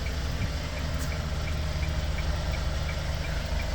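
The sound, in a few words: Hyundai Porter 2018 engine idling after being started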